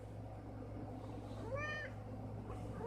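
A big cat gives a single drawn-out meow, fairly faint against a steady low indoor hum, with quiet background in between.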